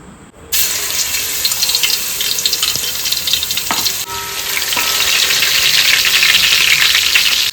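Water pours steadily into a spice mixture in a cooking pan, a loud continuous rushing hiss with sizzling that builds over several seconds, with no talk.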